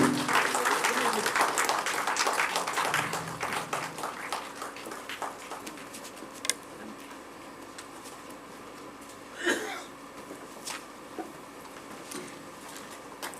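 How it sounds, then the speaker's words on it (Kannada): An audience at an award ceremony claps loudly as dignitaries come onto the stage. The applause is dense at first, then thins and fades over several seconds, with faint voices and scattered claps remaining. "ಬರಲಿ ನಿಮ್ಮ ಕಡೆಯಿಂದ ಒಂದು ಜೋರಾದ ಚಪ್ಪಾಳೆ"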